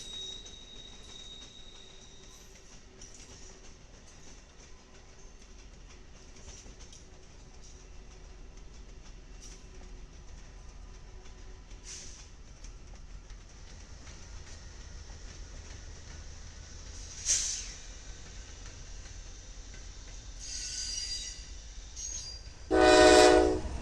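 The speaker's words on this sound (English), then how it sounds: "we have the Lincoln service from Amtrak passing a Union" An Amtrak Lincoln Service train meets a Union Pacific intermodal freight in St. Louis: a long, quiet distant rumble of passing rail traffic, brief squeals, then a loud horn blast close at the very end.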